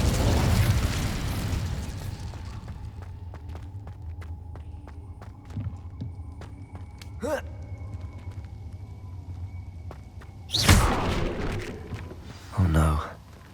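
An Incendio fire spell from Hogwarts Legacy flares in a roaring whoosh at the start, settles into a crackling rumble with scattered game clicks, then two more fiery bursts flare up near the end.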